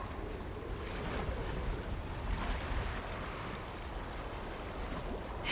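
Gray surf from icy Lake Michigan surges against a pier breakwater in winter, a steady low rumbling wash mixed with wind, fairly distant and unbroken.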